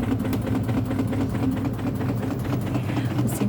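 An Arashi AWM 451A portable washing machine spins its load in the spin-dry cycle, giving a steady, close mechanical hum with rapid rattling from the wobbling tub.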